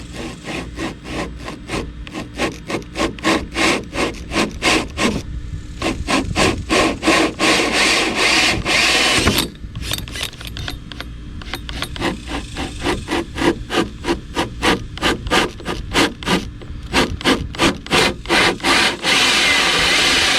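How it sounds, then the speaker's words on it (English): A hole saw cuts holes in wooden doors for custom storage compartments in a Suburban camper conversion, giving close, loud, rhythmic rasping strokes that repeat in quick bursts with brief pauses and no speech. "I'm just going to take probably a hole saw about like this and drill a hole in each one"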